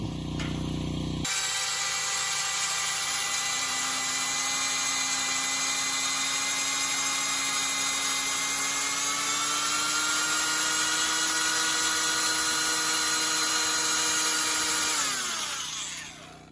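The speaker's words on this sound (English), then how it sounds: "This drill bit has a screw on the end that will pull this bit into the wood" A power drill whines steadily as a screw-tipped bit pulls itself into wood, a loud sustained motor tone that slowly rises and strains, then winds down at the end.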